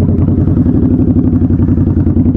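Harley-Davidson Night Rod motorcycle engine running on the road, a loud, close, low throbbing rumble with a steady pulsing beat and no talk.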